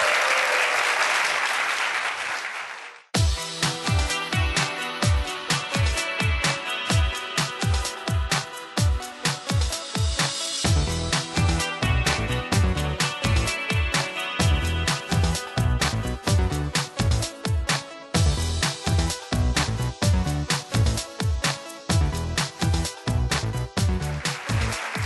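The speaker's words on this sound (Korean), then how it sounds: "박수 주세요." A large audience applauds a speaker at a science lecture event, loud dense clapping with rhythmic pulses after a short swell, continuing steadily for most of the stretch with no talk over it.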